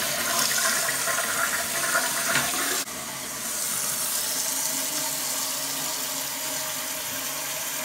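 A running toilet being adjusted, flushing with a loud rushing swirl of water, then the tank refilling with a steady hiss and trickle, close and continuous.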